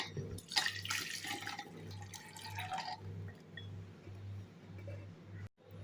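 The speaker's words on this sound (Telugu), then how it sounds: "ఇందులో ఉండే నీళ్ళన్నీ వంపేసుకోండి." Water is tipped out of a pressure cooker of boiled peanuts, a faint, close pour and trickle that fades to soft drips over a steady low hum.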